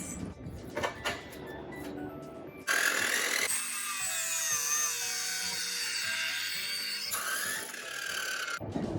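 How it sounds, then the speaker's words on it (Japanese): Power tool cutting steel angle iron, a loud high grinding whine that starts abruptly after a few seconds of handling clatter and runs steadily for about five seconds before cutting off. "アングルを 40mm のところで印してカットします。"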